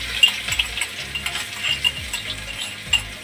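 Chopped garlic sizzling as it hits hot oil for a tempering, made while cooking guar beans: a close, steady crackling hiss with small pops and occasional clinks of a spoon against the pan.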